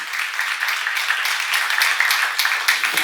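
A church congregation claps together during a sermon, a dense, steady wash of many hands that stays loud and even for a few seconds with no talking over it.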